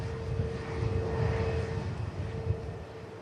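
An inbound Ryanair airliner at Manchester Airport produces a steady, moderately loud engine roar with a thin sustained whine running through it, heard alone.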